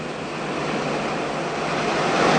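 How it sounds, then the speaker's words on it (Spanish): Ocean waves roll toward the shore in a continuous, loud wash of surf, swelling slightly toward the end with no voices. "todas las olas disminuyen su velocidad a medida que se acercan a tierra"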